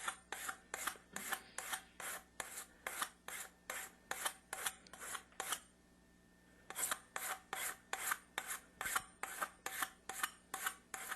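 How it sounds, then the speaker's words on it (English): Brass pipe being filed by hand with a regular file near a lead joint, rasping in steady back-and-forth strokes, about two per second, with a short pause partway through. "We're just going to keep filing it down until we get it down to the brass part"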